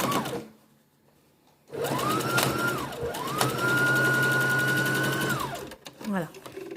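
Sewing machine stitching a fabric face mask in two steady running bursts, its motor whirring at a constant speed between short pauses and faint handling noises.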